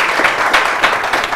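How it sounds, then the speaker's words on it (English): A burst of dense applause from a crowd, loud and close, with many hands clapping at once. "A round of applause."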